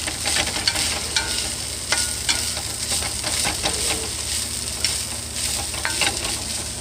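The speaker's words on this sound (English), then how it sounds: "Hamburger meat cooking with our bell pepper." Ground hamburger meat and bell pepper frying in a pan for homemade spaghetti sauce, giving a steady close sizzle with dense crackling and occasional stirring scrapes throughout, with no talking.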